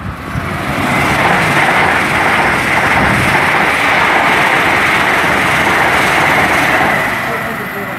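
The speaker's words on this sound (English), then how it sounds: "about to pass through is an IET heading for Bristol Temple Meads, passing on platform 1" An IET train runs through Tilehurst station on platform 1, bound for Bristol Temple Meads, a loud, sustained broadband rumble and rush that holds steady for several seconds before easing slightly at the end.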